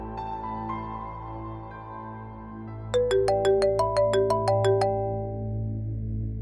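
A phone rings in a Pakistani drama scene: a low room hum gives way to a bright electronic ringtone that repeats a quick, evenly spaced run of chiming beeps, loud and close.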